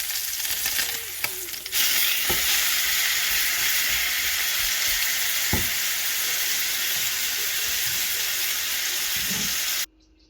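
Food sears in a Le Creuset enamel cast iron pan, a loud, steady sizzle and hiss that runs continuously with a few faint clinks before cutting off abruptly near the end.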